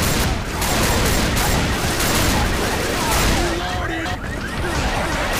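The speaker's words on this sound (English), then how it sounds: "Maybe I shouldn't use a shotgun anymore." Shotgun fire erupts in the Left 4 Dead 2 video game, a dense, loud run of blasts and crashes with chaotic game action filling the whole stretch.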